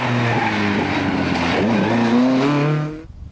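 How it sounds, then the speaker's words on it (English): A Ford RS 1800 rally car with a BDA engine climbs the Cairncastle Hill Climb course at the Ulster Rally, its engine revving hard and loud with rising and falling pitch through gear changes before it cuts away abruptly. "The BDA engine sounding superb along the Cairncastle Hill Climb course."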